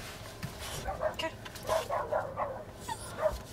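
A small dog yips and whimpers in short, repeated bursts at moderate distance, with faint background noise between the calls.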